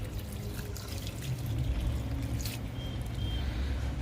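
Water poured onto fresh soil in a potted areca palm, a soft continuous trickle and splash that swells after the first second and runs steadily, fairly close with no talk.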